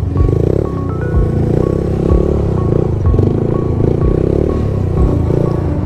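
A motorcycle engine drones steadily and loudly up close through a circle wheelie, with a rumbling, slightly uneven throb and no talking over it.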